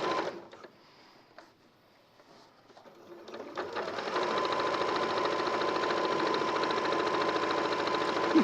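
A sewing machine stitches through bulky fabric corners, starting with brief stop-start bursts and quiet handling, then settling into a loud, continuous whirring run of fast stitches.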